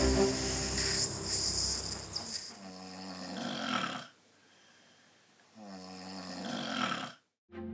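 A person snoring loudly in two long rasping breaths with a quiet pause between them, close and prominent, with no talking.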